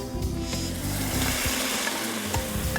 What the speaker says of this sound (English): we're gonna deglaze with a little shot of wine, why not?